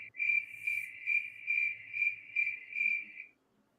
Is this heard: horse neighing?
no